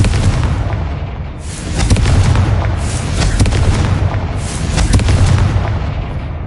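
Repeated Confringo fire-spell blasts in the Hogwarts Legacy video game during an assault on a goblin mine, loud booming bursts with rumbling low end recurring every second or two over a continuous dense roar, no talking.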